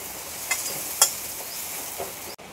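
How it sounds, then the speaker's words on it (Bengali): Okra fries in a wok with a steady close sizzle of hot oil, broken by a couple of sharp stirring scrapes, with no voices. "ভেন্ডিটা প্রায় ভাজা হয়ে গেছে"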